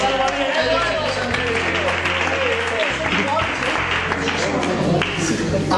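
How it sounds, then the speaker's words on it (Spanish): Steady applause from a church congregation fills the space, with clapping continuing throughout and a hum of voices and music beneath it. "Fuerte aplauso para ellos."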